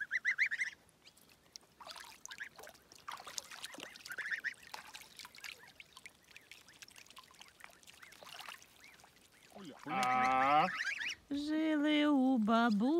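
Geese give loud, harsh honking calls in a burst near the end, after a long stretch of quiet splashing and rustling by water in a village.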